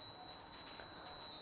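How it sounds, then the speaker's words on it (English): Hand bell rung during a Hindu puja offering, a faint steady high ringing tone held continuously through a brief moment, alone without speech. "please ring the bell as you do so"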